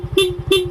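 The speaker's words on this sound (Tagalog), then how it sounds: "Ito yung tunog na stock horn." Stock horn on a Yamaha Mio i 125 scooter sounding two short, loud honks close by, with a steady low engine hum underneath.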